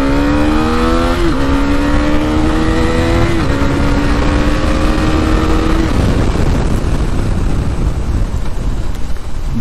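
A KTM 390 motorcycle engine revs through several rising gear pulls while riding, with heavy constant wind roar masking much of it, loud and close.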